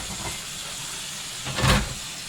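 Tap water runs while hands are washed at a home kitchen sink during cornbread preparation: a steady, close broadband hiss that swells into a louder splashing burst near the end, with no talking.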